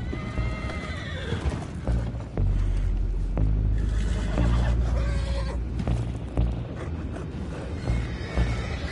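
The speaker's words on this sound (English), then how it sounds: "go find out about those horses down below" Horses in Red Dead Redemption 2 neigh and whinny repeatedly over clip-clopping hooves and creaking mechanisms, close and fairly loud with a low booming undertone.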